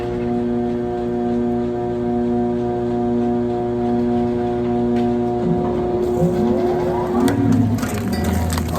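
A vintage T-bar ski lift's bull wheel starts up on a gentle soft start: a steady mechanical hum and whine that shifts and grows busier partway through, with rising tonal sweeps and clunks, loud and close throughout.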